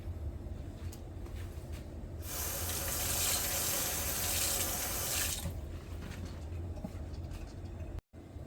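Green onion tops are rinsed under a running kitchen tap, a close, steady hiss of flowing water that starts partway in, lasts a few seconds, then cuts off, leaving quiet room sound.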